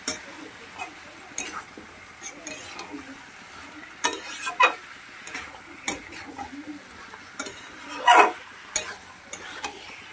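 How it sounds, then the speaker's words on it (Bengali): Onions frying together with chicken pieces in a pan, a soft continuous sizzle punctuated by irregular scraping stirs and a few sharper metallic clinks of the spoon against the pan. "পেঁয়াজগুলো ভালো করে চিকেনের সঙ্গে মিশিয়ে ভেজে নিতে হবে।"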